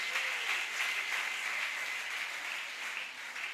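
Congregation at a church anniversary celebration, a steady wash of applause and cheering that holds at an even level throughout, with no distinct voice standing out.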